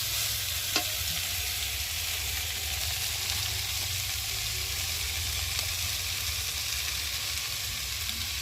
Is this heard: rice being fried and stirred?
yes